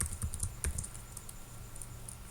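Close, quick keystrokes on a computer keyboard as a book title is entered into a bookstore search program, a short burst of clicks that fades into quieter, sparse taps, with no talking.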